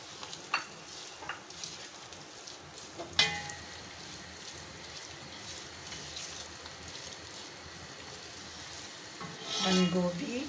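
Vegetables such as capsicum stir-frying in a pan for cheesy Italian spaghetti, a continuous close sizzle with scattered spatula scrapes and knocks, one sharp clank, and louder frying toward the end.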